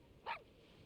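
A single short bark from Gerard, a dog in the Genshin Impact video game, sounds once, brief and fairly quiet against a low background.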